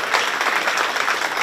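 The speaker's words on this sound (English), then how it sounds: "We need a bigger round of applause than that." An audience at a 4-H/FFA swine show at the 2025 Shelby County Fair applauds, a dense, steady patter of many hands clapping together for the whole short stretch.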